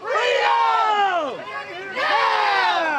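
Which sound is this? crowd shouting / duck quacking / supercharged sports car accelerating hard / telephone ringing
crowd shouting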